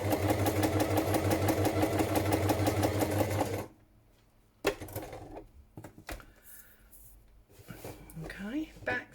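Sewing machine running a rapid, steady stitch at close range for about three and a half seconds while doing scruffy free-motion stitching on a journal cover, then stopping; quieter handling noises and brief movement follow.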